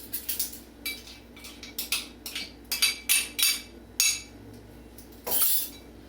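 Melted butter is stirred into a chocolate tres leches batter in a bowl, with a close, uneven run of clinks and scrapes from a utensil against the bowl.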